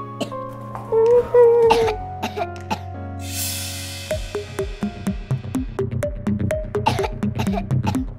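A child coughs in a string of short, rough bursts, close by, with tonal background music and a brief hiss partway through.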